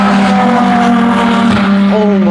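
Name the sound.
race car passing loudly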